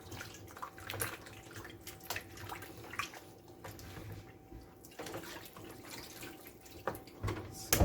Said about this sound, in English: So I'm just pretty much just getting all this water off.